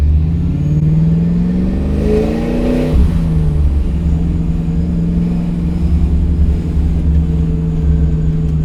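A supercharged Boss 302 Mustang engine revs up loud and close, the pitch climbing steeply for a couple of seconds before dropping back to a rumbling idle that carries on steadily.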